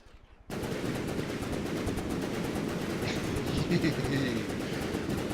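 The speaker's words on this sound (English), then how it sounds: "This is the Gatling 40mm." Gatling 40mm cannon in the From the Depths game fires a steady rapid burst after a brief quiet start, a dense continuous stream of loud thumping shots with some faint chirping noises partway through.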